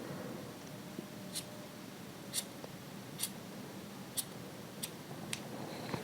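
Scissors snip knitting yarn for a macrame tree, giving about eight short, crisp cuts at an irregular pace, quiet and close against a soft background hiss.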